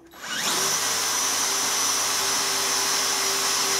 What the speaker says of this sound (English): I've got some tape on the drill.